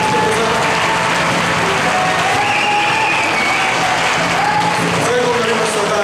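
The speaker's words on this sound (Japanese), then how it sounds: "皆さんで拍手を挙げてください。" An audience claps loudly at a live taiko drum concert in Nago, continuous dense applause with a faint murmur of crowd voices underneath throughout.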